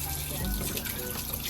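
Steady running water from a bathroom sink tap in a Tokyo apartment as hands are washed, a continuous close hiss and splash under faint talking.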